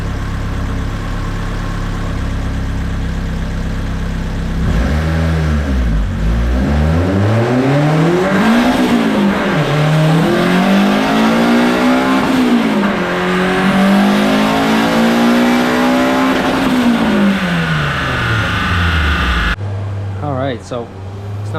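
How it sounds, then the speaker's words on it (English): A built engine with a budget turbo kit pulls hard through first, second and third gears, its loud, close exhaust note climbing in pitch, dropping at each shift, then climbing again, before cutting off abruptly at the end. "I'm gonna go through 1, 2, 3 with boost by gear setup so you guys can hear what that sounds like."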